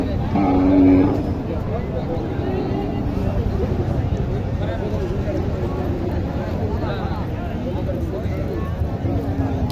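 Sahiwal cattle at a busy rural livestock market in Naogaon, Bangladesh, with one loud close moo near the start over a steady crowd murmur and ongoing nearby talk.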